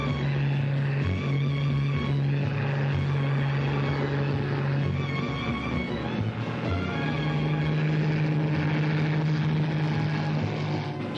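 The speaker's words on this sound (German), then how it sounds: "Jeder über dessen Kopf die Flugzeuge hinwegdonnern." Steady, loud engine drone with a low propeller hum, continuous for the whole stretch like aircraft passing low overhead.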